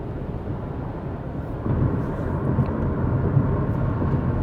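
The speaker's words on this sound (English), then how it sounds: "Airplane in the sky." An airplane passes overhead outdoors near a house, a steady broad low roar that swells slightly louder midway and holds, with no talk.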